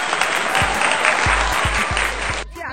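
An audience applauds at a friends' picnic after the last contestant of a ramp show, with dense clapping throughout and a few low thumps underneath before it cuts off abruptly.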